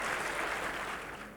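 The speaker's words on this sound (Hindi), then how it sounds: "एक बार जोरदार तालियों के साथ इनका भी स्वागत किया जाए।" A crowd at the Bihar Development Forum claps to welcome a speaker, a thick, continuous wash of applause that starts loud and gradually tapers off toward the end.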